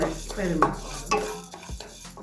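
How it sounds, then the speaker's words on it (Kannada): Urad dal fries in a little oil in a pan for a spiced rice dish, a soft close sizzle under scraping and clinking as it is stirred, with brief background murmur. "ಇದನ್ನ ಸ್ವಲ್ಪ ಎಣ್ಣೆನಲ್ಲಿ ಫ್ರೈ ಮಾಡ್ಕೊಳ್ಳಿ"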